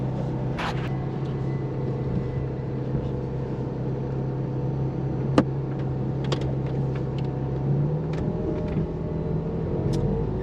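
A 2009 Ferrari 430 Scuderia idles steadily while warming up, a constant low hum that runs evenly throughout with a few faint clicks and brief voices in the background.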